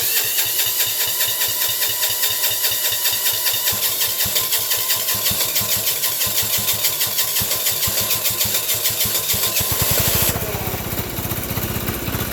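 A Sears Suburban garden tractor with a 6 HP diesel engine cranks and chugs loudly up close in a fast, steady rhythmic clatter, shifting to a slightly different pulsing beat near the end.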